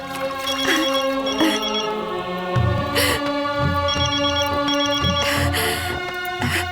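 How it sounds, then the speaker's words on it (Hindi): A phone rings insistently with repeated bright electronic chirps in a steady rhythm, loud and close, with no one speaking. "आ गया तुम्हारे देवरों का फोन।"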